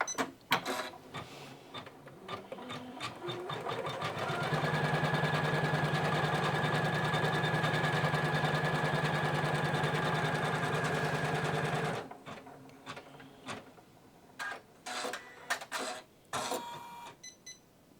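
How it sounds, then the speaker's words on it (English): A Janome computerized embroidery sewing machine stitches a built-in design, its fast steady needle hum rising to a loud continuous drone for several seconds before stopping, followed by scattered clicks and handling noises. "Now I need to unlock the machine and press start stop."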